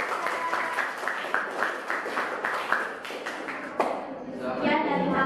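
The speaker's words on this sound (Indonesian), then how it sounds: "Jadi kasih tepuk tangan untuk kelompok." Classroom applause for a student group after a presentation, scattered hand claps with a few distinct sharp claps, then fading as voices take over near the end.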